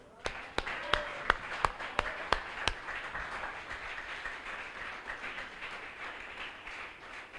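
A church congregation claps during a service: a run of about eight sharp, evenly spaced claps, then a diffuse wash of crowd noise.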